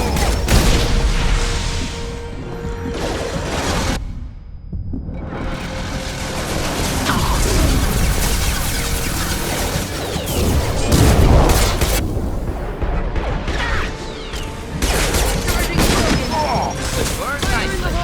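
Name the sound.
gunfire in Mass Effect 2 video game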